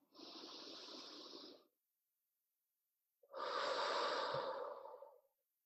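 Two long, deep inhalations drawn slowly through the nose during a guided group healing session, each breath lasting over a second and close to the ear, separated by a silent pause.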